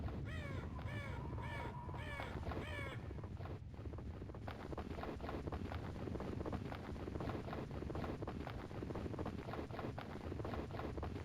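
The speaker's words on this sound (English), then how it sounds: "See, that's such a weird bird sound." Strange crow-like bird cawing in the game Voices of the Void, a quick series of harsh caws at first, then faint irregular calls over steady wind noise, fairly distant.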